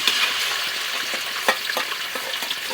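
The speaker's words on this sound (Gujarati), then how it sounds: "ધીમા તાપે દહીં ફાટવું ના જોઈએ એટલા માટે ધીમા તાપે થોડી વાર હલાવીશું આપણે" Yogurt and onions are stirred in a pan over low heat, giving a soft continuous sizzle broken by light scraping strokes and small pops, with no voices.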